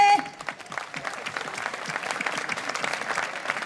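An outdoor audience at an evening event in Jesolo's Piazza Manzoni breaks into applause, a dense burst of many hands clapping that carries on steadily after a brief tone at the start.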